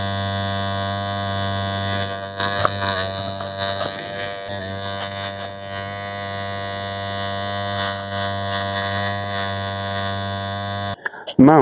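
An electric hair clipper runs with a steady tonal buzz throughout a round fade haircut, its pitch wavering slightly as it meets hair, a voice talking over it, ending in a few clicks.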